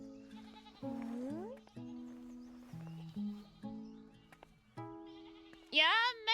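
Several sheep in a video game give a run of quivering bleats over game music, ending with a louder, higher bleat near the close.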